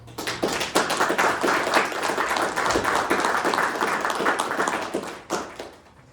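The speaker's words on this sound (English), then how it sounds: "I'd like to give her a round of applause." Round of applause at a board of commissioners meeting, a dense burst of clapping from many people lasting several seconds before tapering off.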